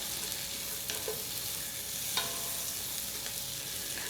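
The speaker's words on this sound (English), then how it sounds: "as this is caramelizing, let's give it a stir every once in a while to make sure nothing's burning" Food caramelizes in a pan, producing a steady, moderately quiet sizzling hiss with a few soft stirring knocks spaced through it.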